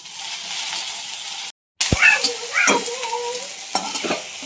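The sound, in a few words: roasting okra in leftover frying oil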